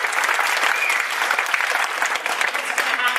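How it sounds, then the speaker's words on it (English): An audience at an anniversary stage show breaks into steady applause, dense close clapping that stays loud and even for the full few seconds. "Captain Sam, let's give Captain Sam a round of applause."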